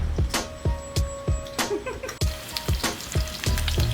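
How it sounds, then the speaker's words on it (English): Bacon sizzles steadily in a pan with a hissing background, punctuated by sharp, regular pops and crackles, close and fairly loud. "See, she hear my bacon popping too."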